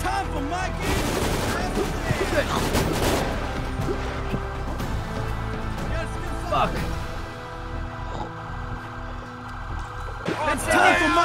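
Bursts of gunfire fill a Grand Theft Auto V roleplay shootout, with rapid loud shots clustered early and sporadic cracks later, over game sounds and a siren-like wail, while players talk throughout.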